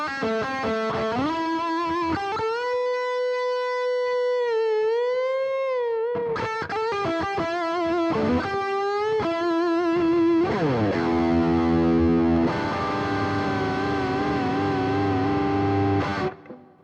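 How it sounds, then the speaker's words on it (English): Electric guitar played through Tube Screamer-style overdrive on a Boss ME-90 multi-effects board, ringing out sustained bent notes and melodic lines, then chugging chords and held notes. It is loud and close, with no talking. "Let's put a bit of overdrive on it with a Tube Screamer."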